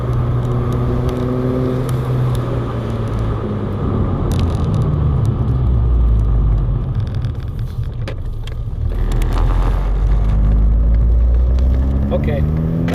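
A Volkswagen GTI Mk5 being driven, its engine rumbling loudly and rising and falling through revs with steady road noise, close and continuous while a person talks over it.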